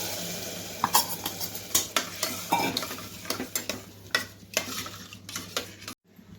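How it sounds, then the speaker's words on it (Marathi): Rice grains rattle into a hot pot of spiced dal khichdi and sizzle, followed by repeated scraping and stirring strokes against the metal. "हे तांदूळ टाकून घेते आता।"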